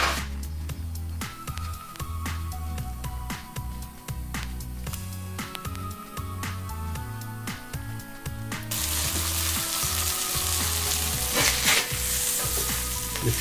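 A burger tortilla wrap cooking in a cast iron pan gives a continuous loud sizzle with crackles, while background music plays and the frying grows brighter and hissier partway through.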